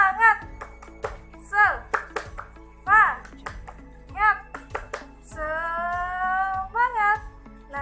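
Children in an Indonesian sixth-grade classroom perform a rhythmic clapping chant, sharp claps falling in a steady pattern between bursts of chanted children's voices, close and lively.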